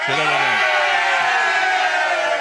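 A large crowd cheers and whoops at the finish of a race at Lemmer, a loud, dense roar of voices lasting a couple of seconds.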